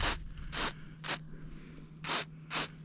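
An aerosol spray can treating braided fishing line before a pike outing, five short hissing bursts of varying length separated by brief pauses, close and clear with no talk.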